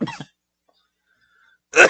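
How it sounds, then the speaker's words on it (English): One person coughs briefly, then after a silent pause coughs again, close to the microphone in a quiet indoor recording. "that is ASMR coughing"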